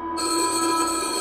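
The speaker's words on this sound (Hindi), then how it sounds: "लेकिन तभी फिर से फोन बजा।" A phone rings with a steady electronic tone that holds loud and unbroken throughout, with no other sound, in a spooky ghost story about a haunted call.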